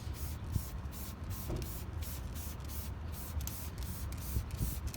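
Water spray hosing down a car wheel to rinse off old Plastidip, a steady close hiss of spraying water with rhythmic pulsing as the stream sweeps across the rim.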